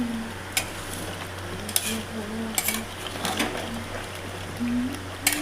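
Mutton sautéing with whole garlic cloves in a pan, a steady low sizzle broken by scraping stirs and sharp utensil clinks against the metal, close and moderately loud with faint voices in the background.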